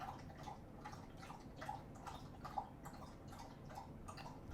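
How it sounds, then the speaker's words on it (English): A dog laps drinking water in a quick, steady rhythm of soft wet ticks, faint and continuous against low room noise with no talking. "This is like, what, a minute of drinking water?"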